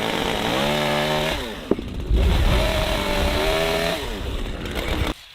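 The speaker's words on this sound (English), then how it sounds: "cutting off the extra parts of the railings using a chainsaw." A chainsaw cuts off the excess ends of wooden log railings on a mountain log cabin build. The engine revs high and loud, bogs as the chain bites into the wood, then drops back and rises again over two cuts.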